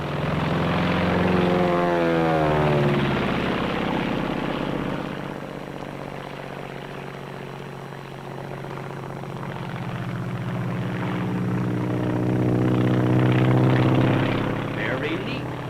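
WWII-era propeller aircraft diving low over an airport, engine roar swelling, fading slightly, then building again as it passes close, with narration over it.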